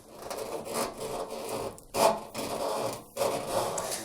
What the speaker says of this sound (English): The machine's now upright again as I can pull the drain hose out.